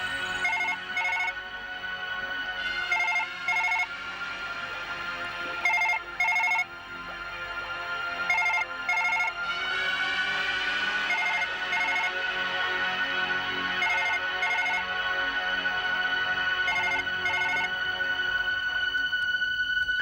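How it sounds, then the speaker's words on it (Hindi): A telephone rings on an outgoing call, its repeated electronic ringtone pattern sounding in regular bursts against a steady background hum, with no talking. "मैं उसे फोन करता हूँ सर।"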